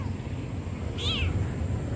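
A single short meow from a cat, likely a stray following someone on the street, rising and falling over a steady low background rumble.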